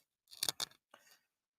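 Scissors are picked up and handled close by during papercraft card making, giving a few quick metallic clicks and snips followed by a softer rustle.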